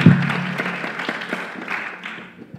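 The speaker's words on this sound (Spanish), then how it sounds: "Bienvenido, con un fuerte aplauso al compañero." Audience applause at a lecture event of the Escuela Descolonial in Caracas, a dense burst of clapping that starts strongly and gradually thins out over a few seconds, fairly close and steady.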